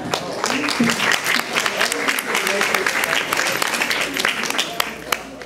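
Lecture attendees at a vegan talk give a round of applause, a steady patter of many hands with distinct individual claps, under some murmured voices.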